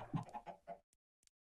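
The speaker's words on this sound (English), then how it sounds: "You can still hear the chickens as well." Chickens in the video game Minecraft cluck in a quick run of about five close, choppy notes, followed by silence broken by two tiny clicks.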